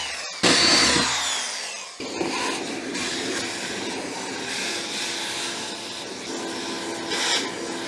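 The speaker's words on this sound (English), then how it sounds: "So I've got all the holes drilled now" A power drill boring guide holes for a rusted fuel pump stud repair, running in a steady, continuous whine after a brief start, loud and close, with no voices.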